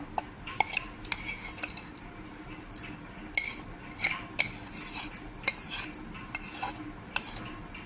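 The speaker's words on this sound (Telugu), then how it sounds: "ఈ పొడి ఇందులో మిక్స్ చేసుకోవాలి." Chili and fenugreek powder being mixed into raw mango pieces for a pickle, heard as repeated close metal spoon clinks and scraping against a dish in an irregular rhythm, with no talking.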